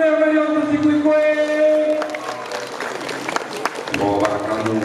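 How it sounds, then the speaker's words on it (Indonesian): Audience applause at a school orientation yel-yel event at SMK Swasta Teruna Padangsidimpuan, a burst of clapping following a sung or chanted voice, with talk and cheering mixed in throughout. "tepuk tangan dong yang kali untuk si Hui."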